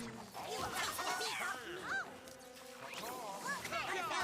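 Cartoon chickens from the South Park Phone Destroyer mobile game squawk and cluck in busy overlapping bursts, loud and close, mixed with other game effects and voices throughout.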